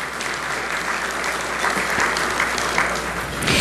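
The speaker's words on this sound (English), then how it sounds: "please join us in giving them all a round of applause" Audience at a regional transportation planning agency's annual meeting gives a round of applause, dense continuous clapping from a large room that swells slightly toward the end.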